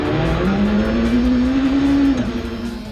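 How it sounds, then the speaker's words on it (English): Audi S2 rally race car roaring past at close range, with a steady loud engine note that rises slightly and then falls away as it passes, with no voices. "The great sounding Audi S2 of Mick Ashby finishing fourth"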